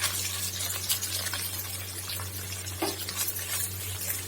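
A spoon gently stirs through thick rava idli batter in a bowl with soft wet scraping, over a steady low hum.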